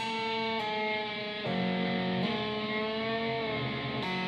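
An electric guitar with a touch of distortion plays a slow phrase mixing a slide, hammer-on, string bend and pull-off, ringing notes sliding between pitches, close-miked with no speech.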